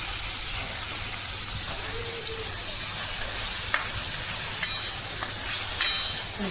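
Onion and other ingredients are stirred and sautéed together in a hot pan, giving a steady close sizzle with a few sharp utensil knocks against the pan.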